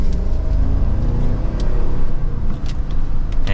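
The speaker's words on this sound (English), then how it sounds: "And just a slight acceleration, we are up to speed for this pretty much six-figure Cadillac Escalade." A 2023 Cadillac Escalade Premium Luxury with a V8 pulls away from second gear, its engine giving a loud, steady low rumble and whir from inside the cabin under constant acceleration.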